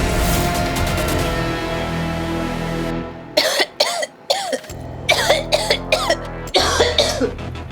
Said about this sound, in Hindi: अब खांस क्यों रहे हो?